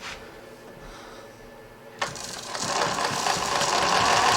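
Singer 20U33 industrial sewing machine stitching zigzag through four layers of vinyl, quiet at first, then a sudden start into a loud, continuous mechanical chatter that builds and holds.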